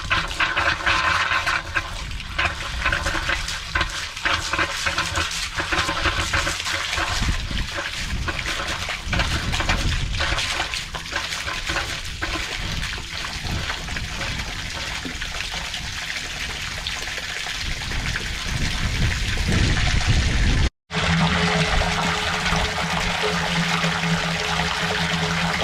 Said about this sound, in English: hear water